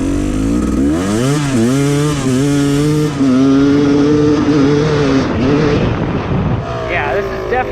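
A Yamaha YZ250 dirt bike runs loud and close after its pilot jet was leaned out, though it still runs rich. The engine note rises and falls through several throttle blips, then settles toward idle.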